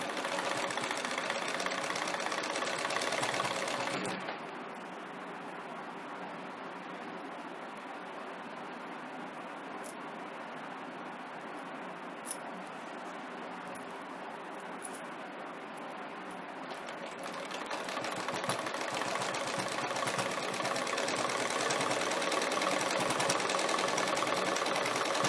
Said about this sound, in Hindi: इसे इस तरह से सिलाई कर लेंगे।